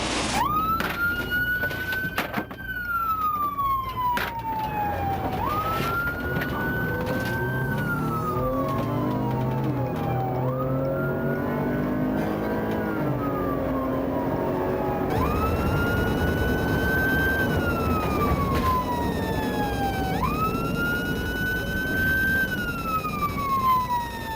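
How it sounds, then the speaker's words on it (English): A loud police car siren wails continuously during a chase on a Florida road, its pitch sweeping up and down in repeated cycles, with steady traffic rumble beneath and no talking. "They turned their sirens on and went in for a chase."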